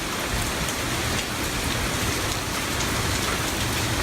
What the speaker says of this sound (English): I don't know if you can see the waves of rain coming off my neighbor's roof or not.